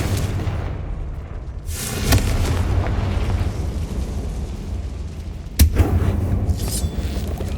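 A Confringo explosion spell fired in Hogwarts Legacy, heard as two loud booming blasts with sharp onsets, one early and one later, each trailing into a rumbling bed of game background noise.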